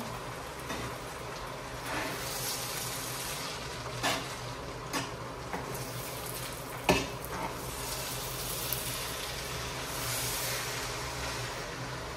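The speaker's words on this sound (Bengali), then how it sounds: "আমি এখানে মশলা আর মাংসর লগে 3-4 মিনিট ভাজবো।" Meat frying with spices in a pan for yakhni pulao gives a steady, close sizzling hiss, broken by a few soft clinks and scrapes as it is stirred to keep it from sticking.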